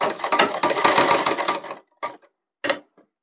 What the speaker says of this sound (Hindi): यहाँ से हमें अंदर की तरफ से सिलाई लगानी है